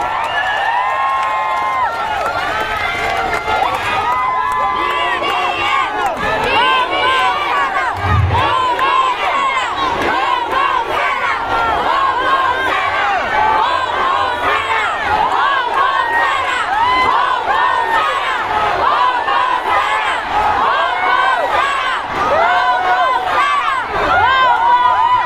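A large crowd at a political motorcade rally in Ilocos Sur shouts and cheers continuously, loud, dense and sustained for the whole stretch, with whoops and overlapping voices rising and falling.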